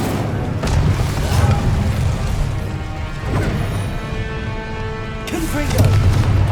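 Repeated Confringo explosive spells cast in Hogwarts Legacy, heavy booming blasts and crashes rolling over dense battle noise, with a fresh loud impact near the end.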